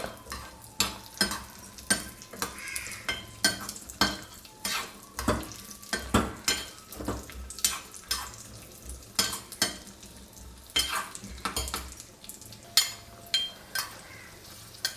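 Raisins and peanuts frying in a pan over a low flame for a Kerala-style mutton stew, a soft steady sizzle broken by repeated loud scraping clatters of a spoon stirring, no voices.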